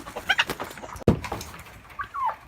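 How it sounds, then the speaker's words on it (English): Turkeys gobbling and clucking inside a horse trailer, several loud, close, rapid warbling calls in short bursts, with a sharp knock partway through and no talking. "these are my evil turkey birds who like to run around the neighborhood and get me in trouble"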